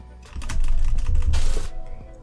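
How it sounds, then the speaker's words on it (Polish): Computer keyboard keys clatter in a quick burst of presses during Fortnite play, with a denser flurry near the end and no one talking over them. "musimy kliknąć Control i musimy teraz kliknąć Delete i od razu dwa razy spacja"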